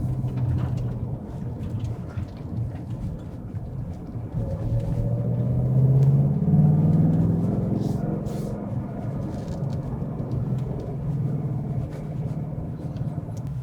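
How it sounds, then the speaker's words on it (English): A 2024 Ford Mustang GT with a manual gearbox, heard from inside the cabin as it rev-matches itself during a shift. A steady low engine rumble swells to a peak around the middle and then settles back. "I'm not kicking the accelerator, it's rev matching itself, which I think is really cool."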